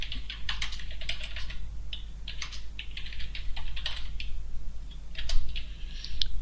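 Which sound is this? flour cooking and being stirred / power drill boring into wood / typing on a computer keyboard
typing on a computer keyboard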